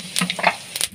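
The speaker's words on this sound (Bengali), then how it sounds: "এই যে ফোড়ন দিয়ে দেবো, জিরে, তেজপাতা আর লঙ্কা, শুকনো লঙ্কা" Whole spices—cumin seeds, bay leaf and dried red chillies—hit hot mustard-style oil in a pan, giving short crackling sizzles and spits in a brief close burst, with no talking.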